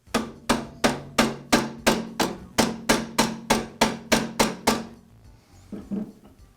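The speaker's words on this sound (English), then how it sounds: "I'll use my rubber mallet to secure it to the press." A rubber mallet strikes a Jet drill press chuck in a quick, even series of about fifteen solid taps, close and loud, then stops, followed by a few faint knocks.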